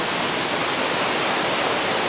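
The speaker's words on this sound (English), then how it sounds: "See the waterfall? Isn't that pretty?" A waterfall at Animal Kingdom gives a steady, even rushing roar of falling water, moderately loud and unbroken, with no voices over it.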